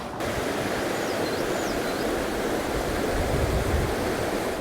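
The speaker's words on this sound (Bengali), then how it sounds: "একদিকে পাহাড় থেকে নেমে আসা পানির স্রোতের শব্দ" A snowmelt stream rushes down a mountainside in Bulgaria, a loud, unbroken wash of flowing water with a faint high warbling call briefly over it.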